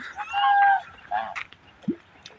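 Ducks at a Krishna temple on Gordhan Parvat in Anjar give loud, nasal quacks in two nearby bursts, followed by a few softer scattered calls.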